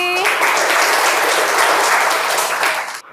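An audience at a school quiz competition bursts into loud, dense applause after a correct answer, a close and sustained crowd of clapping that cuts off sharply at the end.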